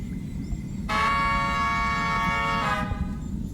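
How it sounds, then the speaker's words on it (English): A train horn rung in the video game Big Walk, one sustained harmonic blast lasting about two seconds over a steady low rumble of background ambience, with a faint reverberant tail as it cuts off. "Let's go ring this horn."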